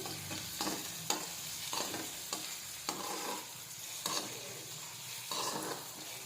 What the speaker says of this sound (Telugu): ఫస్ట్ ఆనియన్స్ వేసుకోవాలి, బాగా కలుపుకోవాలి